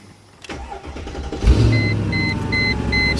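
Car engine cranks briefly and catches, settling into a steady idle with a faint whining tone on top, close and moderately loud.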